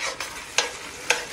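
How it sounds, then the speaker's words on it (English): Raw ground meat for chili is stirred in a pot, giving three close, evenly spaced scraping strokes over a faint steady sizzle. "I stir, and I stir, and I stir."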